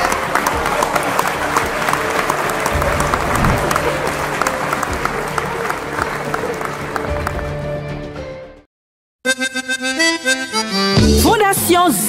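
A dinner-on-the-sea talk show audience breaks into loud, dense applause and cheering that runs for several seconds, then cuts to a brief silence before music-like sound resumes.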